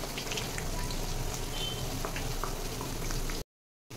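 Masala mathri dough frying in hot oil, a dense, steady bubbling sizzle with crackling pops that holds loud and close before cutting off abruptly near the end.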